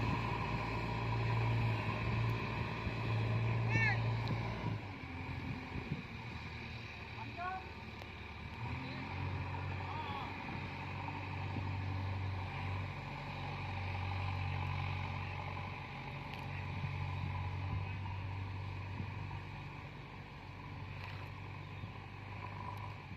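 JCB 3DX Ecomax backhoe loader pushing soil and levelling land, a steady diesel engine drone with low rumble that rises heavier in the first few seconds, then eases and keeps running throughout at moderate distance.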